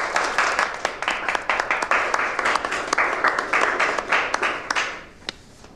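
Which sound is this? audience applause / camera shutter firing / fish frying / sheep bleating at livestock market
audience applause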